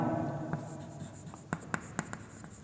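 Handwriting on paper in a classroom setting: soft scratching pen strokes followed by several sharp taps and short marks in quick succession, close and clear with no talking.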